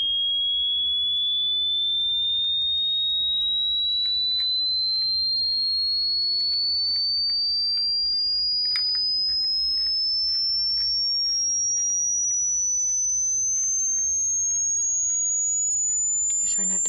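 A continuous high-pitched pure sine tone for a hearing test, sweeping slowly upward in pitch across the whole stretch, steady and clear over quiet background with faint incidental clicks.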